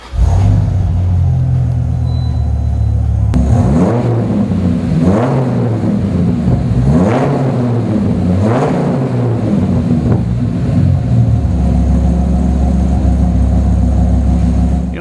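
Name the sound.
2001 Dodge Viper RT/10 engine starting and exhaust idling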